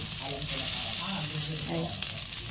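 Pork fat sizzles steadily in a pan over low heat as it renders, a dense continuous hiss close by, with a voice speaking quietly underneath.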